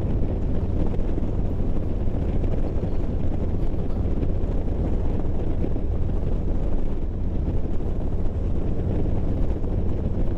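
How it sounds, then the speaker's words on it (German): Steady, loud wind roar buffets the microphone while riding a 2020 Harley-Davidson Street Glide Special motorcycle, a constant dense rush with a low engine drone beneath and no talking. "Ganz roh, wie ich auf einer Street Glide Special durch die Gegend fahre."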